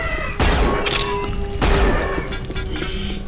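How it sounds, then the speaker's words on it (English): In the old unfinished Unreal game, the ASMP shock rifle fires two loud electric blasts about a second apart, each with a sharp burst and a lingering humming tail. "Which is called the shock rifle in other games."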